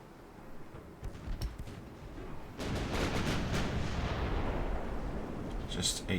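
The cruiser Kent fires high-explosive rounds in a naval warfare video game. A few scattered sharp reports give way to a sustained, rumbling barrage of booming shell fire that rolls on loudly to the end.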